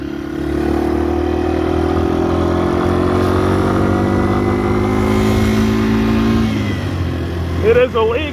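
A motorcycle engine runs steadily and loud at close range, a low droning hum with harmonic layers that shift slightly in pitch before easing off near the end, where a voice briefly cuts in.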